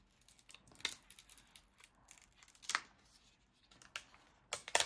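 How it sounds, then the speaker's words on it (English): Backing paper is peeled slowly off Cricut transfer tape, a faint close-up crackling and tearing rasp with scattered sharper snaps, heard alone without any talk. "I'm going to peel off the backing paper."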